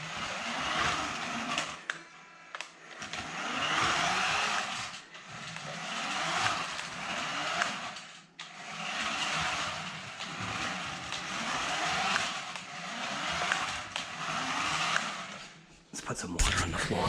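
Small RC truck driving across a tile floor, a steady high buzzing motor whine that runs almost continuously with brief dips and stops, close to the microphone, with some talking mixed in.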